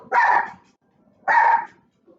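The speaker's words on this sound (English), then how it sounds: "My dogs are barking a lot." Two loud, close dog barks, evenly spaced about a second apart, each a sharp single woof with near silence between.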